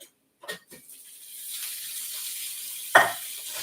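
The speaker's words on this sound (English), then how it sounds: "now I'm going to add the mushrooms." Mushrooms go into a hot pan for sautéing, with a few sharp clatters and a sudden burst of sizzling that settles into a steady, close hiss and ends with another stir.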